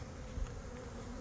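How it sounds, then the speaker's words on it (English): Honeybees drone steadily around a hive freshly moved from a swarm trap, a continuous close buzzing hum with a slight swell near the middle. "I'm covered in bees."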